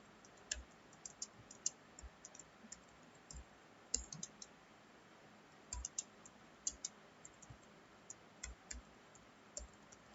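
Keys clicking in irregular bursts on a computer keyboard while an HTML program is typed into Notepad, faint and close, with light taps spread across the whole stretch and no talking.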